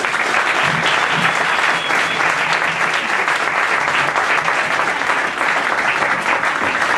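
Dense audience applause fills a talk in Madrid, loud and sustained for several seconds. The claps blend into a continuous roar of hands.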